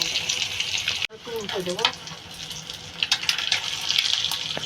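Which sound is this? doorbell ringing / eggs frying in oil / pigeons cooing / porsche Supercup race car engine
eggs frying in oil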